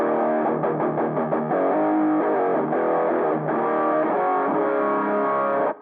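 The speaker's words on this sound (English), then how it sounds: "Where it sounds really muffled and like it's coming out of a telephone." An electric guitar plays a phrase through a lo-fi telephone effect on a HeadRush unit, a thin, muffled, band-limited tone like a telephone speaker, with slight distortion, no talking.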